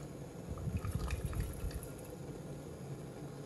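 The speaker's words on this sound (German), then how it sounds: "beginne ich den Sirup in die Flasche abzufüllen" Homemade elderflower syrup pours into a swing-top bottle with a soft, close liquid gurgle that swells briefly and then settles into a quieter trickle.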